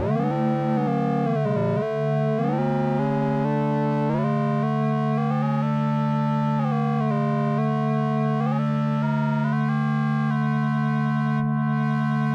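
A smooth, soft Oberheim TEO-5 synthesizer chord on a triangle wave sustains with shifting harmonic tones as the frequency is adjusted, gently changing timbre over several seconds without any voices.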